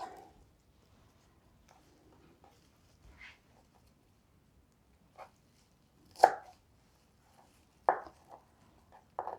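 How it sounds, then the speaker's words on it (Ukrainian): A knife chops fresh herbs on a board for Ukrainian-style tabbouleh, giving a few sparse, crisp strikes that grow slightly firmer toward the end against an otherwise quiet background. "починаю нарізати зелень"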